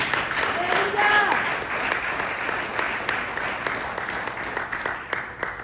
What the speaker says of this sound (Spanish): Denle un aplauso al Señor en el nombre de Jesús.